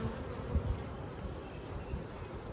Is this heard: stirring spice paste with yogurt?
no